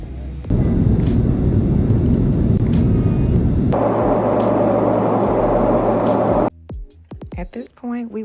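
Steady broadband roar inside an airplane cabin in flight over the Atlantic, loud and continuous, shifting tone partway through, then dropping to quieter cabin ambience with a few brief knocks and a voice near the end.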